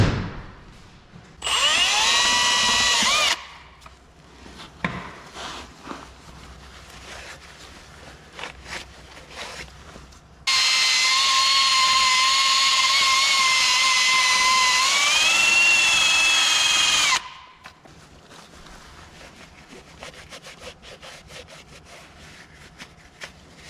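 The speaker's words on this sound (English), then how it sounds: "So I just cleaned these up with a wire brush, so they're nice and ready." Wire brush cleaning hub parts from a Series III Land Rover, heard as two loud, sustained power-brush bursts, a short one then a longer whining run, separated by quieter scraping and handling noises.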